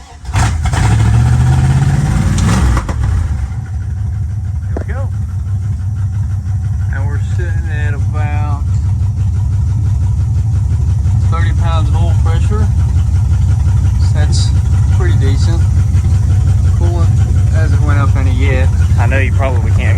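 A 1974 Dodge Challenger engine runs loud and steady with its exhaust disconnected, a deep constant rumble that dominates throughout, with someone talking faintly underneath.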